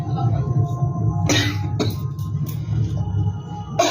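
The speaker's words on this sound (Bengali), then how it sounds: "একটু কাশি হয়েছে" A woman with a cold coughs a few times, brief harsh bursts close to the microphone, during a home kitchen session preparing lentil paste for fritters, with a low steady background hum.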